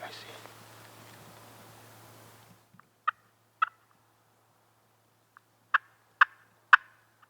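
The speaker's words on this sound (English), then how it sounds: "we had a lone turkey winding its way toward us" A lone wild turkey gobbles in the woods during a hunt: after soft rustling hiss fades, five or six short, crisp gobble bursts ring out at a middle distance against near silence.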